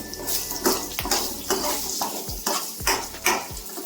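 Oil sizzles steadily in a pan as a curry-leaf and garlic tempering for ridge gourd sambar fries, while a utensil stirs and scrapes in repeated strokes, close and fairly loud, with no voices.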